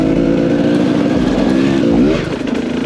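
A dirt bike motorcycle revving as it warms up at a quarry: a loud, close engine drone that holds steady, then climbs in pitch near the end before easing off.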